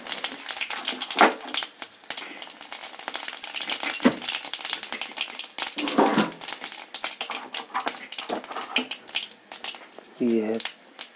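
Cumin seeds sizzling in hot oil in a kadhai, a light crackling and popping spread across the clip with occasional louder pops, while someone talks over it.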